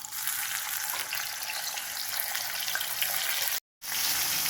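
Steady, dense sizzling of dried seer fish frying in hot oil, continuous and close, with a brief dropout of silence near the end before the hiss resumes.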